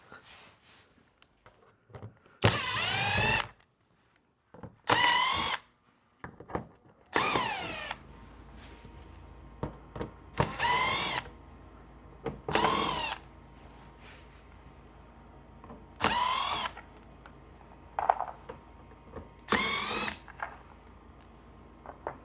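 A power drill backs screws out of a ZL1 bumper during a splitter extension install, running in about eight short, loud bursts separated by quiet pauses.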